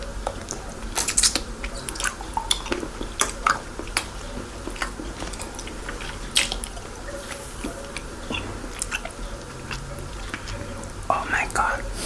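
Lindt milk chocolate chewed close to the microphone, giving soft wet bites and squishy mastication clicks in an intimate close-up setting, with whispered talk running over the chewing.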